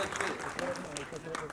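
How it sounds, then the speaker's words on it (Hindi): Audience applause at a music album launch event, steady clapping from a crowd with a voice talking over it throughout. "तालियां।"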